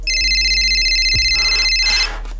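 An iPad's electronic ring tone sounds continuously at close range, a bright sustained chime with a soft thud near the middle, then cuts off near the end.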